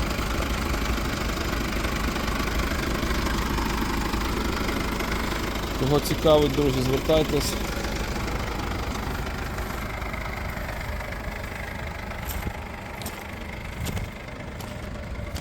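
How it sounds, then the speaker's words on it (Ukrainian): A 2019 Mercedes-Benz Sprinter van's diesel engine idles with a steady low rumble throughout, while someone speaks briefly over it. "Двигун працює м'якенько"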